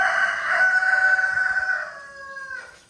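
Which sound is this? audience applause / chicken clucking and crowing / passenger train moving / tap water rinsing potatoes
chicken clucking and crowing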